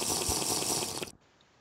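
Water splashing and rushing in the block-building survival game Terrafirmacraft, a loud continuous watery hiss that cuts off abruptly near the end, leaving near silence.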